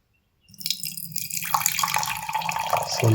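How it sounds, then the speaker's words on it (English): Water pours steadily into a tank fitted with a liquid level alarm, starting from silence as a close, splashing gush that thickens into a continuous rushing stream, with a faint low tone present beneath it throughout. "So let's pour the water."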